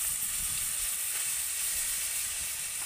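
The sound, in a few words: pointed gourd trimmings frying in oil in a wok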